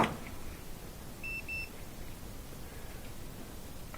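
A multimeter gives two short, faint electronic beeps during a continuity check on a Maytag dryer part, heard against a quiet hiss.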